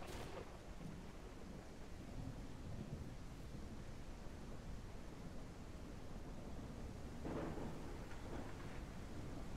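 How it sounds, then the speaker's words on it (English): A thunderstorm in the farming game Ranch Simulator sends steady heavy rain hissing throughout, with rolling thunder rumbling low and a sharper crack near the end, all without voices. "This storm is loud."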